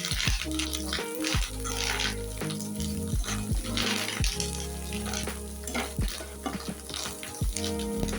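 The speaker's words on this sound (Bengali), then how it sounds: "মাছের ডিমটা যে ভাজা হয়েছে এটা একটা টুক করে শব্দ করতে দেখো" Fish roe and potatoes fry in a pan for a spicy Bengali fish roe jhura, with a loud continuous sizzle broken by repeated scraping stirs and sharp clicks close to the listener.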